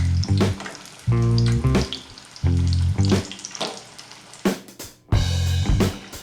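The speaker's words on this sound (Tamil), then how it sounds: "இப்போ இந்த வாழைக்காய் பஜ்ஜி போட்டிருக்கோம்ல" Raw banana bajji fritters frying in hot oil give a loud, close sizzle that surges in repeated bursts as pieces are turned, with clinks between.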